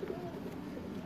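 Pigeons coo softly in a loft, a brief low murmuring call close by with no other voices.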